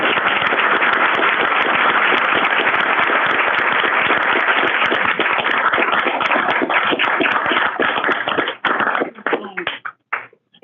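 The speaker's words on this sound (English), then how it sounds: "So please give them a round of applause." Audience at a school board of education meeting applauding students in steady, dense clapping that lasts about nine seconds, then thins into a few scattered final claps before stopping.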